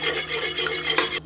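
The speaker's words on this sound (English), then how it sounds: "I also have a spatula to scrape the sides." A spatula scrapes around the sides of a pot of boiling candy syrup, a rough, continuous rasping stroke repeated in quick succession, close and fairly loud, ending abruptly.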